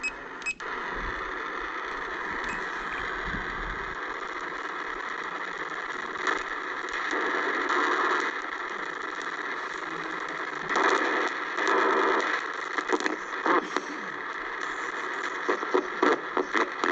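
A Bearcat DX 1000 receiver tuned across the shortwave bands gives a continuous hiss of radio static with warbling tones and faint fluttering bursts as the dial moves, steady and fairly loud with no voices.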